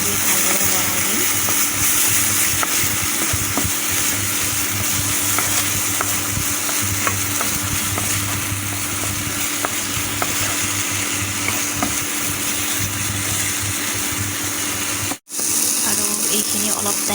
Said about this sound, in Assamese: এইখিনি অলপ টাইম ভাজি ল'ব লাগিব।